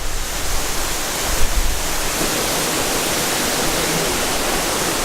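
Natural waterfall on the road to Hana in Hawaii roaring with a loud, steady broadband rush, close and continuous.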